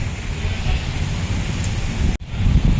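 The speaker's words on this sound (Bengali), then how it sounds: "হাওয়ার কি সাউন্ড, আলাদাই আলাদাই।" Strong outdoor wind blowing on a summer evening, a steady loud rush buffeting the microphone throughout, with one brief dropout near the end.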